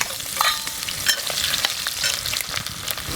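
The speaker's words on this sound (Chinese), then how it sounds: "咱们油温烧热，姜蒜下锅爆香" Ginger and garlic sizzle and crackle in hot oil in a pan, close and lively, with scraping stirring sounds throughout and no talking.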